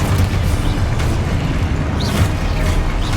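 A Confringo fire spell detonates in Hogwarts Legacy, a loud dense boom with rumbling low-end blast energy that fills the whole moment, dense and continuous with faint crackles on top.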